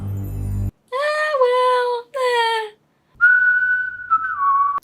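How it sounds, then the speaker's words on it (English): Someone whistles a short, clear tune up close: three sliding notes in a row, a pause, then a longer held whistle that dips at the end. "Poseidon is just whistling and standing there."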